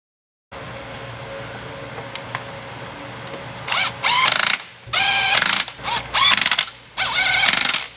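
A ratchet tightens bolts on the coolant valley plate of a 2012 Lexus IS F, first a steady mechanical hum, then loud, close bursts of rapid clicking ratcheting in several separate pulls.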